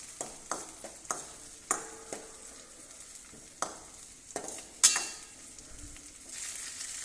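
Potato curry ingredients sizzle steadily in a hot pan while a spoon stirs them, with sharp scraping knocks against the pan every second or so and a brief louder clatter near the end.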